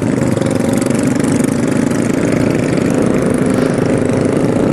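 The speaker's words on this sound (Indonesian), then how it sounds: "suara motor mereka lebih gede suaranya daripada motor Matic gue" Yamaha Scorpio bobber motorcycle engines run steadily up close, a constant throbbing drone with no talking.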